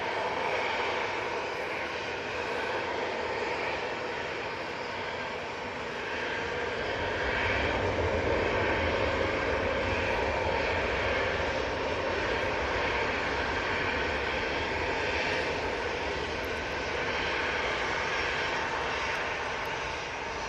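A TUI Boeing 737-800 jet powers up for takeoff on its way to Paphos, producing a loud, sustained engine roar that swells slightly midway and holds for twenty seconds without speech.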